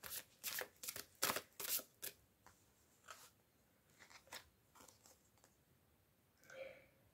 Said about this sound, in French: je vais prendre 3 cartes de chaque oracle